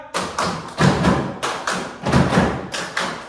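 A classroom of Indonesian pupils performs the 'tepuk siap' clapping routine, sharp rhythmic group claps in quick patterned bursts, loud and close with no talk.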